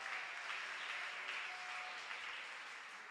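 A congregation at a fasting and revival meeting clapping hands in praise, a sustained wash of many hands clapping together, faint and somewhat distant, fading slightly toward the end.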